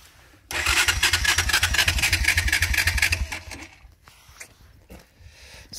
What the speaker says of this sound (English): The quad won't start.